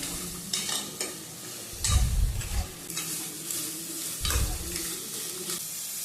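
Crab sautéing in a pan for Tamil-style crab rasam gives a steady sizzle, with two louder scraping stirs of a spoon against the pan, near and alone.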